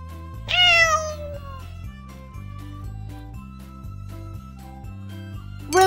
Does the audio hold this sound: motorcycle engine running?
no